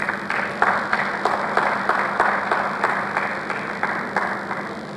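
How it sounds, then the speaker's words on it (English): Hall audience applause at a Nigerian anti-corruption recognition ceremony, steady and moderately loud, with some sharper individual claps in a loose rhythm over a continuous wash of clapping. "Could you please give her a round of applause?"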